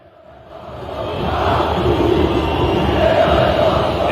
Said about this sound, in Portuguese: Você só ouvia a torcida do Corinthians.